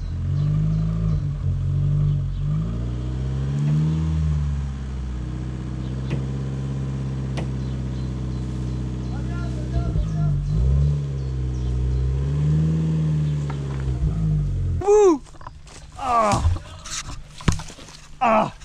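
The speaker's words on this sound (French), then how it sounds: "j'avais mis ma voiture pour tirer avec le grappin pour essayer de la sortir" A car's engine revs and strains steadily while it pulls a 10 mm rebar grappling hook to drag a stuck bike free during magnet fishing, a sustained low drone with pitch swells, then breaking into sharper bursts near the end.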